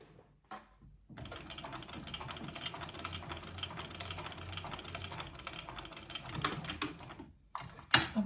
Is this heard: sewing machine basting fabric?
yes